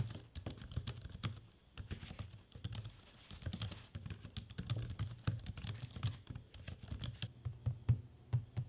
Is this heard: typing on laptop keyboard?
yes